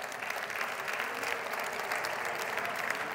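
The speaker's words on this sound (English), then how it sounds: "A big round of applause for our Oslo team" An audience at a workplace innovation showcase applauds together, a steady even clatter of clapping that holds for a few seconds at moderate distance, with no voices over it.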